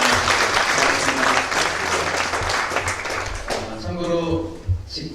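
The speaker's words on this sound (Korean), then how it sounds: "하나님께 영광의 박수 올리겠습니다." Congregation at a church building dedication service clapping together, dense applause that fades toward the end as a voice begins speaking over it.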